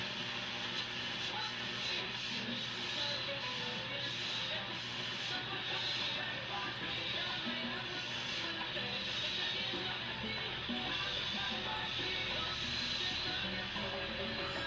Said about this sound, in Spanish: con el ruido que estamos escuchando es el típico ruido de la lámpara